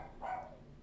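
A single short dog bark, faint and distant, heard in the background of an otherwise quiet room.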